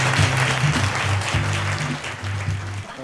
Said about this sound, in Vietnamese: Và một tràng pháo tay thật lớn của quý vị sẽ cùng vang lên để chúc mừng ạ.